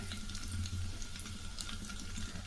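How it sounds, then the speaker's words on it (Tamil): Mustard seeds and kalpasi splutter in a little hot oil in a heated pan for a kurma, a continuous frying hiss dotted with sharp crackling pops, close and with no talk. "கல்பாசி நல்லா பொரிஞ்சிச்சுங்க"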